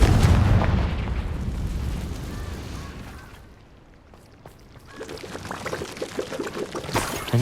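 A Confringo fire spell bursts in the Hogwarts Legacy video game, a loud, booming blast with a rumbling low body that fades into a brief quiet before crackling, sputtering fire and debris noise swell again.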